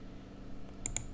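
Two crisp computer mouse clicks land close together near the end, sharp and close against a quiet room hum, with no talking.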